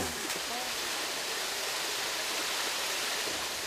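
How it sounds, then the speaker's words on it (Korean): Okyang Falls on Baekyaksan roars with a constant broadband rush of falling water, steady and fairly near, with no clear talking over it. "여기 폭포 참 특이하다"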